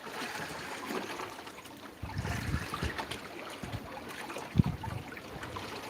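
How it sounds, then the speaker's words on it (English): Water laps gently and continuously around a small fishing boat, soft sloshes and trickles close by with a few louder splashes against the hull. "listening to those waves."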